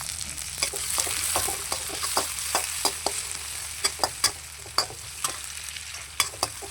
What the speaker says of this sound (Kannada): ಈರುಳ್ಳಿ ಲೈಟ್ ಗೋಲ್ಡನ್ ಕಲರ್ ಬರೋಗಂಟ ಫ್ರೈ ಮಾಡ್ಕೊಳ್ಳೋಣ.